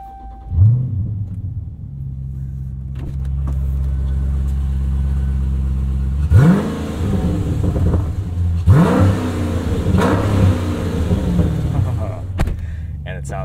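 A 2016 Dodge Challenger SRT 392, stock apart from a resonator delete, starts with a loud rumbling crank and settles into a deep idle, then several sharp throttle blips roar up and fall back.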